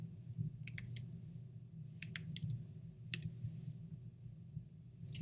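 A handful of scattered keystrokes on a computer keyboard, typing a site name into the Safari browser, come as soft, sparse clicks in short clusters over a low, steady room hum.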